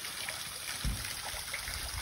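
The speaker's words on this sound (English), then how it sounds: "And this is a little trickle." Small waterfall trickling into a little pool beside a sandy beach along the Natchez Trace Parkway, a faint steady splashing and gurgle of water heard alone.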